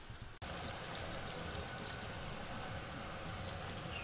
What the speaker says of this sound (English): And now we're going to add the real chicken stock.